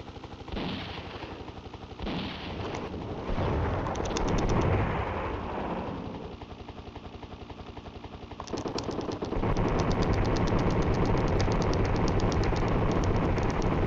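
Continuous video game gunfire from Desert Strike: Return to the Gulf, with dense rapid machine-gun bursts and heavy explosions over loud game noise, steady throughout.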